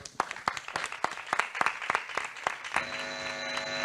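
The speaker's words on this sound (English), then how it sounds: "So a big round of applause" Audience applause closing a session on neuroscience and museums: a small group claps in distinct, uneven bursts of separate claps. Near the end a steady electronic tone sets in beneath the clapping.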